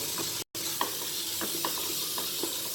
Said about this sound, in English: now that we've added the peas and the carrot, let's just stir it in